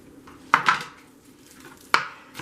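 Knife chopping green onions on a cutting board in a home kitchen, two sharp distinct knocks with brief scraping, close and clear with no talking.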